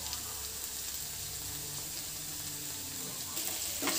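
Egg curry with fried eggs and potatoes frying again in a pan before tomato sauce is added: a soft, even sizzle throughout, fairly quiet, with faint stirring and a slight rise near the end.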